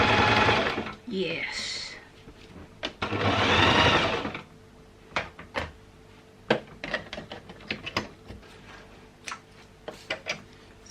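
A sewing machine stitches the side of a punch needle pillow case in two long whirring runs, followed by scattered ticks and clicks of handling, with a voice speaking briefly.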